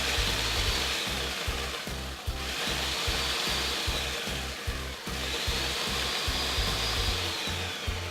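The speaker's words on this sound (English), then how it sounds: "I'm gonna go ahead and put my food processor on, put the lid on, and I'm gonna pulse them just a couple of times to crush them." A food processor pulses Oreo cookies into crumbs, its motor buzzing in repeated short bursts with a rhythmic chopping rattle, moderately loud and close, with brief dips between pulses.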